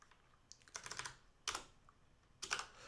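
Typing on a sticky computer keyboard, with three separate bursts of quick, close key clatter divided by short pauses, heard alone.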